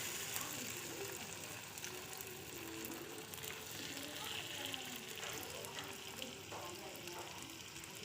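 Manthal fish frying in coconut oil, with a dense, continuous crackling sizzle and scattered spatter pops throughout, steady and fairly close.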